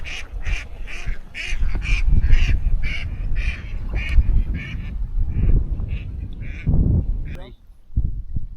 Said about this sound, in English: there's got to be at least 20 swans up there